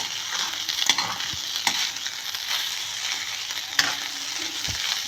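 Egg fried rice being stirred and tossed in a hot pan, steady sizzling frying with scraping spatula strokes and occasional clacks, close and continuous with no talking.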